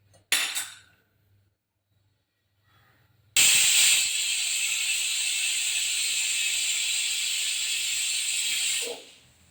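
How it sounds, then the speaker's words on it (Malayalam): A pressure cooker on a stove, cooking an Onam olan with coconut milk, lets out a loud, steady hiss of steam for about six seconds before cutting off, preceded by a brief metallic clink and quiet pause. "ഒരു വിസിൽ മതി സ്റ്റൗ ഓഫ് ചെയ്യാം"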